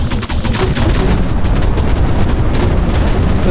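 Dense, loud game combat from an indie space-shooter, with enemy turrets firing and explosions booming in a continuous roar with no pauses.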